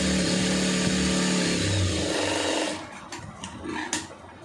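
A sewing machine stitches a lining blouse seam with a fast, steady mechanical whir and clatter for under three seconds, then stops, followed by quieter scattered handling clicks and fabric rustle.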